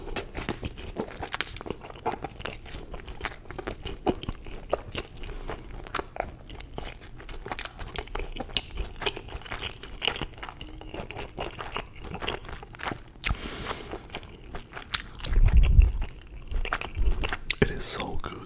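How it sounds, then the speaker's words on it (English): Bites and chewing on a Buc-ee's brisket breakfast taco, close and crunchy, with soft repeated mouth sounds and a louder burst of chewing near the end, amid low background noise. "Let me try this brisket taco"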